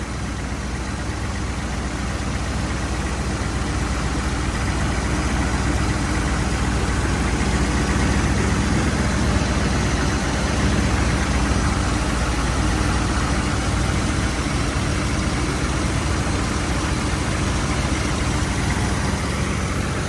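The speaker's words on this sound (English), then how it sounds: "It's definitely idling a lot cleaner than before." A 1981 Chevy C10 square body engine idles steadily after a spark plug change, a loud, constant, even rumble with no variation across the whole stretch and no talking.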